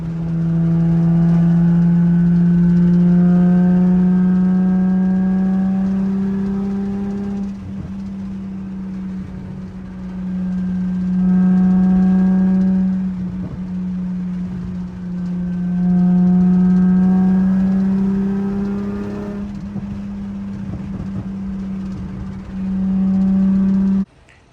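A manual-swapped Nissan 350Z engine runs steadily and loudly throughout, its drone rising and falling in pitch through several gear changes with brief dips between pulls, no talking over it.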